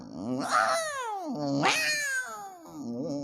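A voice imitates a cat, giving a few drawn-out, wavering meows, close and fairly loud, with no other talk around them.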